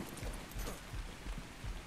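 Steady rain in ARK Scorched Earth, a dense, even hiss of falling water with faint low rumbles underneath, heard alone with no voices.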